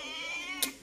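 A single short cat meow rises near the end of a brief, quiet moment, close and clear over faint background hum.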